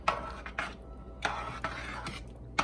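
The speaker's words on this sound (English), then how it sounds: "So now we're going to stir that up." A spoon scrapes and knocks around a pot of cheeseburger soup with Velveeta, several distinct clinks and scrapes spaced across a quiet, close background.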